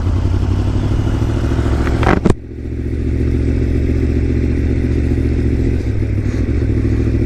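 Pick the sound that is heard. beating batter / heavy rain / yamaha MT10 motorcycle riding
yamaha MT10 motorcycle riding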